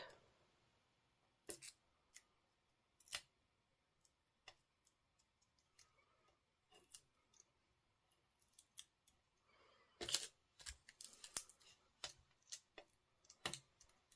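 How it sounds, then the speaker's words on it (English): Scissors snipping small foam dimensionals for a paper craft card, heard as sparse, crisp close-up cuts and clicks over about fourteen seconds, busier toward the end, with no talking. "I'm just going to cut myself some smaller ones so that they fit inside the leaf shape."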